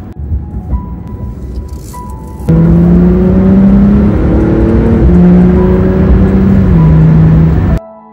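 A car drives along, its engine rising through gears as it accelerates hard, loud and close in the cabin, with the pitch climbing in steady sweeps before cutting off abruptly.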